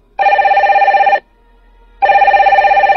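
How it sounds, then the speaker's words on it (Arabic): A telephone bell rings loudly in two long bursts, a steady trilling tone with a pause of under a second between rings, heard alone with no voices. "رن هاتفها."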